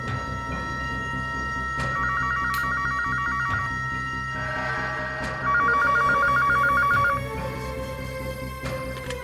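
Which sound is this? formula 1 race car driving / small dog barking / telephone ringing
telephone ringing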